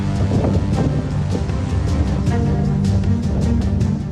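Steady, roaring gusts of wind from Cyclone Biparjoy in Kutch, Gujarat buffet the microphone continuously, a loud broadband rush with faint splashing of water underneath.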